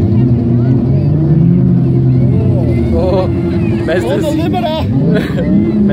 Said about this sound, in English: Mazda's on the limiter!